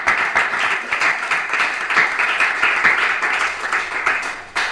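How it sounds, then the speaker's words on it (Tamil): Church congregation at a Tamil worship service clapping hands together in praise, a dense continuous patter of many hands held at a steady loudness, with a faint voice underneath. "கைத்தட்டி கர்த்தரை ஸ்தோத்திரம் பண்ணு."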